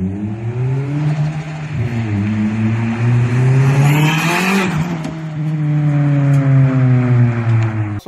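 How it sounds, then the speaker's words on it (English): A turbocharged Scion tC with a wastegate screamer pipe revs up loud and close, the engine note climbing, then a sharp turbo scream and blow-off rush before it settles and rises again. "Call it a screamer pipe because once that turbo spools and you're letting all these gases out, man, it sounds great, but it is very loud"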